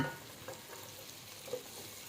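Onions frying in a pan for a beef curry, a continuous close sizzle with faint stirring scrapes, steady and unbroken with no voices.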